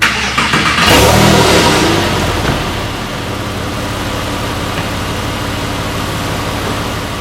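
Porsche 911 Carrera S of the 997 generation with its 3.8-liter flat-six engine, starting with a loud surge of revs that then settles into a steady, fairly loud idle running on alone with no talk.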